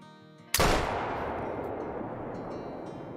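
A single loud .470 elephant rifle gunshot fired at a grizzly in the hunting game Call of the Wild, a sharp crack followed by a long rolling echo that slowly fades.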